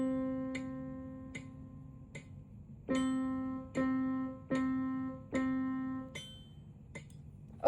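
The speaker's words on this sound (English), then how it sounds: "I can play it. And with a metronome, it would sound like this." A sustained tone held over several beats, then four short notes played in time with soft, steady metronome clicks, quiet and close, with no talking.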